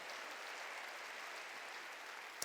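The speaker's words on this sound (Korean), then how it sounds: "박수로 하나님께 영광을 돌려야 돼요" Steady applause from a church congregation, a dense continuous wash of clapping held at an even level throughout, with a single sharper clap near the end.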